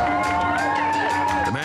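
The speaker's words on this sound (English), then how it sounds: "The crowd cheers for more." A crowd at a war memorial in Nizhny, Russia, cheers and shouts loudly at a celebration, with overlapping excited voices and whoops, close and continuous.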